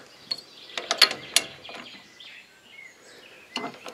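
A torque wrench clicking while tightening the cylinder head bolts on a Husqvarna YTH150 riding mower, with a quick run of sharp metallic clicks and ratchet ticks, a pause, then another short burst.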